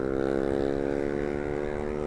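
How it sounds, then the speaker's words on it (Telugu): A TVS 310RR single-cylinder motorcycle engine running steadily with a strong, rumbling pulse that stays even throughout, close and loud. "it sounds like a single cylinder engine"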